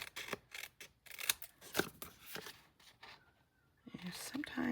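Scissors cutting card stock at close range, a series of quiet snips and scraping slices with pauses between, accompanied by soft speech.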